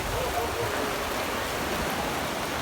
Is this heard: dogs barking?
no